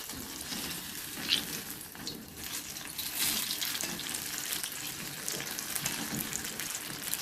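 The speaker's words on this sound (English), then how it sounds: "We will fry it in low to medium." Pakoras frying in oil on low to medium heat give a soft, continuous crackling sizzle with small pops, close by and fairly quiet, with no voices.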